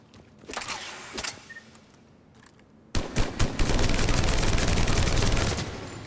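Typhoon gun firing in Mass Effect 3, a few sharp single shots followed by a loud, sustained rapid-fire burst of automatic gunfire.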